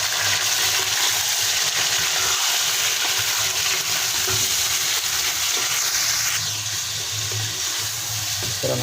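Chicken with ginger and garlic fries in a karahi, a loud steady sizzle with a constant hissing wash throughout and faint stirring scrapes, no voice.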